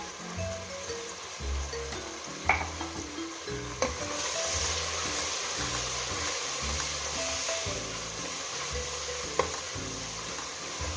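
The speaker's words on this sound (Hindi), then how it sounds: "मसाला भुनी चुका वे दाल पावन लगी है।" Masala of turmeric powder, cumin and garam masala frying in a pan for chana dal, a steady close sizzle throughout with a few sharp clicks of a spoon against the pan, no voices.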